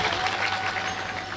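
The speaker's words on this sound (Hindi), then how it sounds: "जोरदार ताली हो जाए।" A crowd at a stage program breaks into loud, dense applause, steady and sustained throughout with no talking over it.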